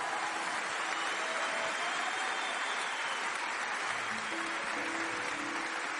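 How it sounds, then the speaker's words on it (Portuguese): A church congregation claps for the Lord during a Portuguese-language worship service, producing steady, dense applause that fills the whole stretch at moderate distance, with no clear voices on top. "Aplauda o Senhor Jesus com toda a tua força."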